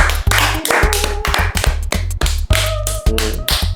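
Sharp percussive claps in an irregular burst, several close hits per second, loud and near over a steady low hum from an outdoor setting where a homemade speed boat is being tested.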